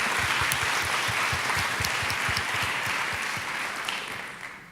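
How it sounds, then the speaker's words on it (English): An audience honoring women competitors at a data conference gives a round of applause, dense steady clapping from many hands that holds strong and then slowly tapers off at the end. "a round of applause"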